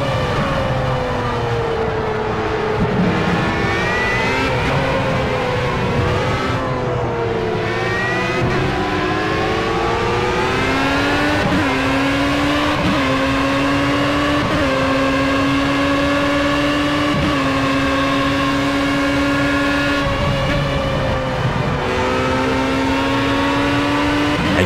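At Silverstone in Project CARS, a Formula A race car engine screams loud and near, with repeated climbing pitch sweeps and quick shift breaks while the car pulls hard through successive gears. There is no talk.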